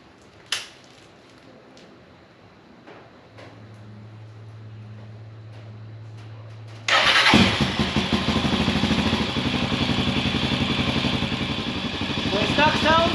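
A Motorstar Cafe400 motorcycle with its stock exhaust pipe fires up after some quiet handling noises and a low hum, then settles into a loud, steady, close-up idle with a throbbing exhaust note.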